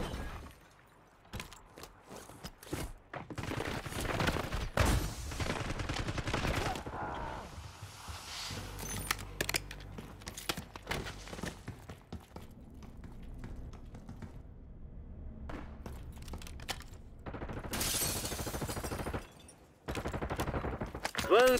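Gunfire in the Call of Duty Warzone Resurgence Area 99 battle on PS5, with repeated bursts and single shots cracking loudly and irregularly throughout, mixed with game voice callouts and battle noise.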